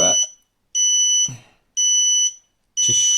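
Walkera Rodeo 110 quadcopter transmitter beeping in a steady pattern: four loud, sustained electronic tones of roughly half a second each, separated by short gaps, close and clear with no talking.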